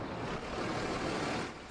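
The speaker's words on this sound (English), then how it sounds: "From the serene creek, a soft breeze blowing through the green trees" Steady broadband wash of flowing creek water mixed with a soft breeze through green trees, continuous and fairly close, with no voices.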